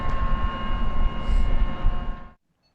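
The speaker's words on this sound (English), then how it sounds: "And cargo boats leaving the creek." Cargo boats leaving a creek, a broad low engine drone with steady tonal hum, loud and continuous before cutting off abruptly near the end.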